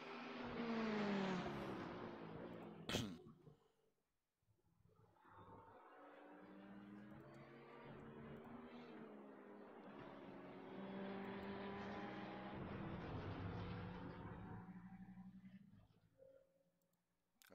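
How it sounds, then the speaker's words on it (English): GT3 race car engine at Sebring, a loud, sustained roar with harmonic pitch sweeps as it revs and shifts, passing close by after a short sharp burst, then fading near the end. "Stephen gets around the GT3 car."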